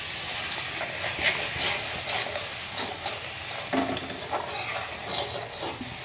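A splash of water goes into a pan of fried spice paste with red chilli powder, raising a loud, continuous close-up sizzle and hiss with scraping stirs through it.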